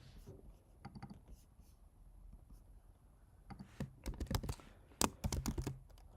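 Someone types on a computer keyboard, sparse clicks at first, then quicker bursts of keystrokes growing louder and denser toward the end, close by and with no talk over them.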